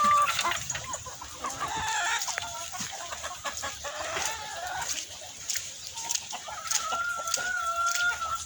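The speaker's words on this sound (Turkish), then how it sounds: "Yeni aldığımız horozumuz" A rooster crows nearby while several chickens cluck steadily in the background, with a continuous outdoor hum underneath.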